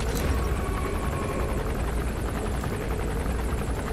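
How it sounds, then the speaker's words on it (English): Helicopter in Metal Gear Solid 5: The Phantom Pain, a steady dense rotor thrum and whine filling the whole stretch, close and constant with no talk over it. "Is that stupid helicopter?"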